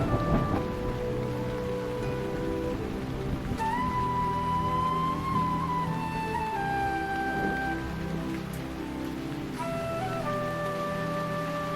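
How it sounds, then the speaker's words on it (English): Rain falling on a forest: continuous steady patter with low rumbles, overlaid by gentle music with sustained tones. "Rain bathes the forest and saturates the soil"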